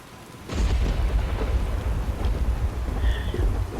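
Rain falling in the video game Skyrim, a dense steady patter that starts abruptly and carries on evenly, fairly close and alone without talk.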